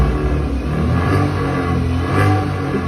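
A car engine revs with its remote-controlled exhaust valve shut, giving a muffled, moderately loud rise and fall of mid-pitched engine noise that stays continuous throughout.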